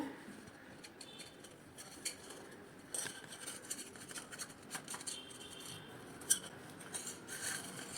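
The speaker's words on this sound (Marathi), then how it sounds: "केक थंड झाल्यानंतर आपण आता सुरीने तो असा मोकळा करून घेऊया" A knife runs around the edge of a cooled eggless vanilla maida cake baked in a pressure cooker pan, making faint, close, intermittent metallic scrapes and taps with no talking.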